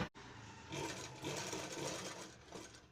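A sewing machine stitches lace in short, quiet bursts of rapid mechanical whirring, close up, with a pause and a click at the start.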